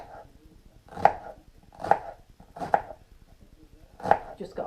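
Half an onion being chopped with a knife on a board for a vegetable pie, four distinct close chops at a steady, unhurried rhythm with quiet kitchen background between strikes.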